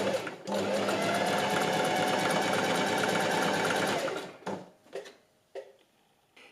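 A sewing machine runs a zigzag stitch attaching elastic to handmade underwear, a steady dense mechanical whir for about four seconds, then stopping with a few short bursts and handling sounds.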